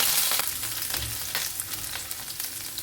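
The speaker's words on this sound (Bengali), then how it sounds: "সেই তেলের মধ্যেই দিয়ে দিচ্ছি রসুন কুচি, আদার কুচি," Chopped garlic, ginger and green chilli frying in hot oil for chilli soyabean, a steady close sizzle with a few soft stirring scrapes and no talking.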